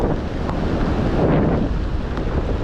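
Strong wind on a seashore during heavy rain buffets the microphone in a loud, continuous rush, with the wash of rough sea waves mixed underneath; no voices are heard.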